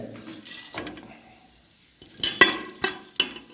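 Fenugreek seeds drop into hot oil for tempering a Tamil fish curry, giving short bursts of sizzling with faint clinks of a pan in between quieter pauses.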